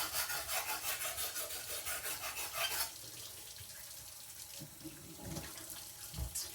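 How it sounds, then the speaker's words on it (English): Hot water runs from a tap with a steady broadband rush for the first few seconds, then stops, leaving quieter rubbing and handling sounds from knife restoration work at a workbench sink. "Oh, that was hot water."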